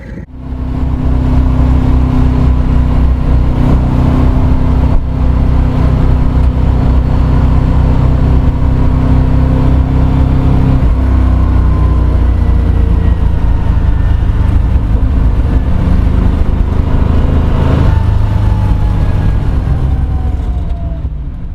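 A Mercedes 123 wagon fitted with an OM606 diesel engine drives along, its steady low engine drone and road rumble continuing loud and close throughout, with a slight shift in pitch midway.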